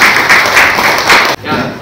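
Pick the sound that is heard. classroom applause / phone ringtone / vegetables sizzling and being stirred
classroom applause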